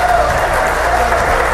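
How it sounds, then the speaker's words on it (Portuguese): Church congregation applauding during a worship service, a dense, loud, continuous roar of clapping with crowd noise mixed in, filling the whole short stretch. "Aplauda bem forte Jesus."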